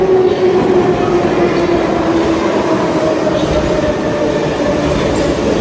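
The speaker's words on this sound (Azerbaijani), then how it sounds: "Ay Efe, Cani, qatarımız gəlir." A metro train rumbles loudly and steadily, with a sustained metallic whine over the heavy rolling noise of the cars.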